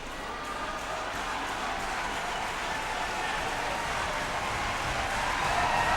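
Sustained applause from a large audience at the 2001 Blackpool Dance Festival, professional International Latin event, a steady dense roar of clapping that swells slightly toward the end, with faint voices in the crowd.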